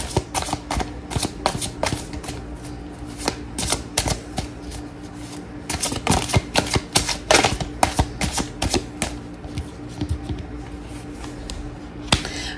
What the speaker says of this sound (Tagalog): pero balasahin muna po natin ang ating baraha